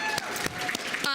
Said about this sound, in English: I think we need to give our wait staff one more round of applause